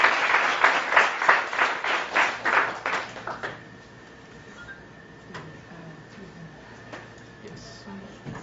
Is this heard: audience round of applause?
yes